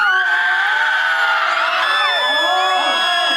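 A live audience at the AIS Bangkok Countdown shouts, screams and whoops together during The Star 11 contestant introductions, a dense, loud and continuous crowd roar with high-pitched yells rising above it throughout.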